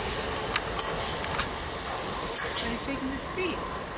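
Two Class 387 Electrostar electric trains, 387-218 and 387-202, pull away from Preston Park Station with a steady, close rolling rumble and a few brief high squeals. Faint voices are heard in the background.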